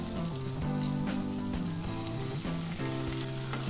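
Green chillies hitting browned onion in a hot pan for stuffed capsicum, giving a steady loud sizzle and crackle of frying that stays constant throughout, with faint low hum beneath and no talking.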